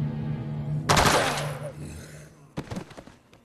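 Gunfire in the video game Dead Rising 2: a loud, sharp blast rings out, then a quick burst of shots follows a moment later, with voices talking before and between them.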